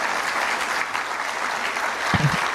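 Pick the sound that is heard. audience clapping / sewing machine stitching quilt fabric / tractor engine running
audience clapping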